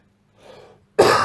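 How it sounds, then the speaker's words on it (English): A single sharp, loud cough bursts out near the end, preceded by a softer, breathy throat sound, with no talk around it. "Making me cough."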